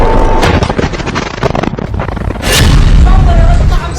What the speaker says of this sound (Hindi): रोड की दूसरी तरफ एक मरकाबा टैंक खड़ा है और फिर धमाका एक दूसरे कैमरे से रिकॉर्ड किया जाता है।